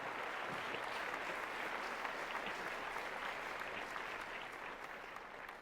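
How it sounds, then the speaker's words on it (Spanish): A church congregation at a Spanish-language service claps for the Lord in a dense, sustained round of applause that holds at an even level throughout. "Un aplauso al Señor, hermano."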